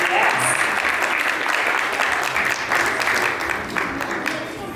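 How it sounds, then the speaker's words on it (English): Audience applause at a school orientation day, as teachers are called onto the stage; steady, dense clapping from a large crowd that fills the whole stretch, fading slightly toward the end, with a voice faintly audible beneath. "Yes, with a big applause,"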